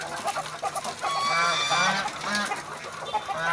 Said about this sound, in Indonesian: Bahkan angsa-angsanya pun dah nggak sabar untuk makan sore